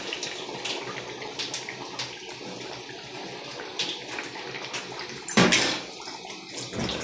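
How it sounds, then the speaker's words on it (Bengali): Water is poured into a pot of duck meat curry, a brief burst of splashing and sizzling that rises suddenly midway and then settles back to a low background bustle. "হালকা একটু জল দেন, গোলায় নেব আর কি।"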